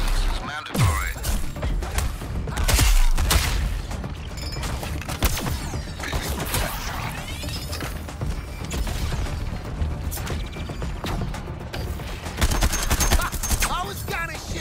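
Gunfire in the video game Suicide Squad Kills the Justice League, dense bursts and crackling shots running throughout under loud game effects and music, with a voice talking over parts of it.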